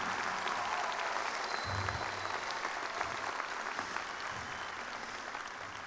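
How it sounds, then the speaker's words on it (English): A commencement audience gives graduates a steady round of applause, a dense wash of many hands clapping at moderate distance that holds evenly throughout, with a faint crowd murmur beneath. "I ask our audience to give a well-deserved round of applause to the graduates"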